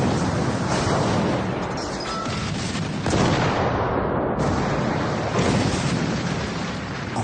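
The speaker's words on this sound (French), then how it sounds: "1 million d'obus s'abattent sur les positions françaises." Artillery shelling from the Battle of Verdun in 1916, a dense, continuous roar of heavy guns and explosions rumbling without pause, loud and broad, with surging bursts and no voices.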